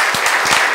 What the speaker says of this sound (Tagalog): Malakas sa palakpak para sa Lord.